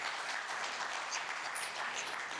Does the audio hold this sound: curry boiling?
no